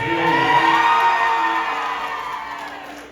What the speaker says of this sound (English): give this Bronx party a nice round of applause